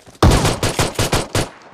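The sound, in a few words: shotgun gunfire in PUBG Mobile video game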